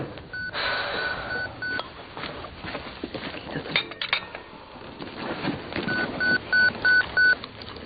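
A short electronic hospital pager beeping in a repeated series of bright tones near the end, after clattering and faint background noise.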